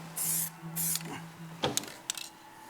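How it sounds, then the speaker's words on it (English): Aerosol spray paint can used to repaint a project vehicle, several short hissing bursts of spray close by, followed by sharp clicks and taps. "which way is this aerosol spraying?"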